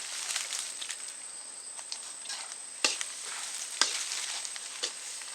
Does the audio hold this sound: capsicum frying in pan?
yes